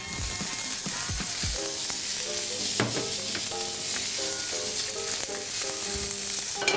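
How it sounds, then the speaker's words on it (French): Carrots sautéing in a pan give a steady, close frying sizzle, with occasional stirring clatter and utensil taps against the pan throughout. "nous allons faire revenir maintenant les carottes"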